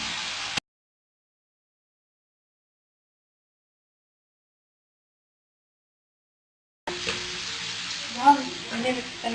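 Rice stir-fried for egg and vegetable fried rice, sizzling in a hot pan while being stirred and mixed, with soft scraping and stirring knocks; a silent gap in the middle, then steady frying noise returns.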